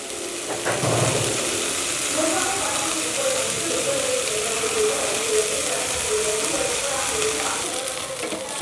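Masala idli frying in a pan gives a steady, close sizzle that holds at an even loudness the whole way through, with faint stirring scrapes and no voice.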